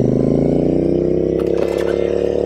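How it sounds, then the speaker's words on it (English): A Royal Enfield Interceptor 650 with AEW aftermarket exhaust pipes idles with a deep, throaty, rumbling exhaust, loud and close, with a brief rattling clatter partway through. "Can y'all hear that engine?"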